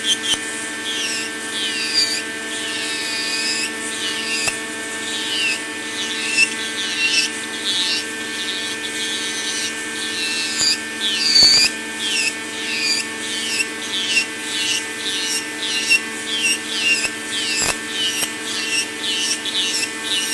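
A JUMBO milling burr bit grinds down the end of a tip, giving a steady close scraping, rasping whir with rhythmic pulses of contact throughout, heard alone without voices.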